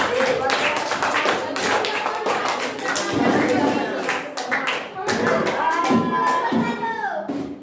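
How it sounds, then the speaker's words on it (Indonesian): A classroom of pupils claps for everyone at the end of a lesson, with dense, uneven clapping and table taps mixed with children's voices and chatter throughout. "tepuk tangan untuk semuanya."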